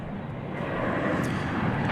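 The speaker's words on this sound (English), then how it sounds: "You're looking at an American Airlines 7878 Dreamliner." American Airlines Boeing 787-8 Dreamliner taxiing out from a terminal at DFW Airport, a steady, moderately loud engine rumble and hiss that builds slightly over two seconds, heard alone.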